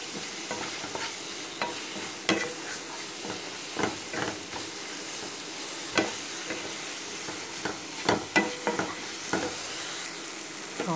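Spoon stirring masala through a simmering potato and butter beans gravy, irregular scraping strokes spaced every second or so over a soft steady sizzle, close and moderately loud with no talk.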